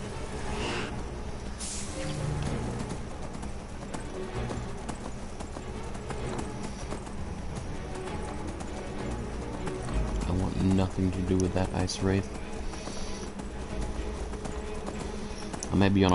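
Horse hooves clip-clop at a steady rhythmic trot in Skyrim, with someone talking over it throughout while game sounds play in the background.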